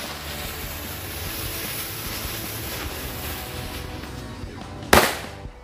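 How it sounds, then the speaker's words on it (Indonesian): A single sharp UFO firecracker bang goes off near the end, standing out loud over quiet outdoor background, then its echo trails away. "untuk yang selanjutnya sore hari ini kita nyalain mercon UFO guys"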